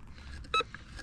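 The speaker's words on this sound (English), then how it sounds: "Whoa, we've got a nice beep." A metal detector sounds one short, clear beep over a buried target while treasure hunting outdoors in Big Bear, California, standing out above a low background murmur.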